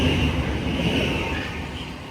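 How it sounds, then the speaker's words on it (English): A Thameslink train passing through South Croydon station on the Brighton Main Line, running a Brighton to Cambridge service: a steady, fairly loud rolling rumble with a high whine above it, easing slightly as it goes by. "another Thameslink, working a service from Brighton to Cambridge"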